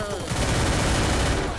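A PP19 fires in the Free Fire video game, a loud continuous burst of rapid automatic gunfire with dense rattling shots throughout.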